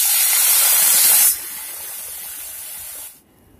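Water hits a hot pan of fried lentils and soy chunks, bursting into a loud sizzling hiss that drops after a second to a steadier sputter before cutting off.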